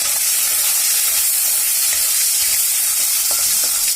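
Three dried red chillies frying in a wok of hot oil, a dense, loud, continuous sizzle close up with faint scraping from stirring, no voices.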